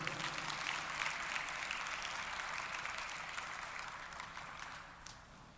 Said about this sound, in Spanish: Fuerte aplauso a aquel que vive.